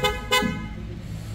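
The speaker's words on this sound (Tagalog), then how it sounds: "snail horn, malakas siya" An aftermarket snail horn fitted to a Toyota Innova gives two short, loud, close blasts, the second slightly longer, over a low idling background.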